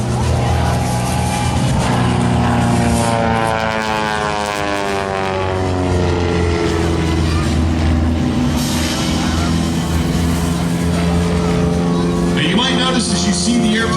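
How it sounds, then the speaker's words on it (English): An open-cockpit Super Chipmunk airplane performs aerobatic loops at an airshow, its propeller engine droning loudly and steadily with rising and falling pitch as it passes, while an announcer talks over it throughout. "This is truly an open cockpit Super Chipmunk"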